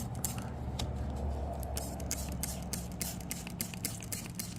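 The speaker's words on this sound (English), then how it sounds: "you're going to try to spray into the soil" Quick bursts of hissing from a spray bottle misting seed-starting soil repeat in an uneven rhythm, close by, over a low steady background hum.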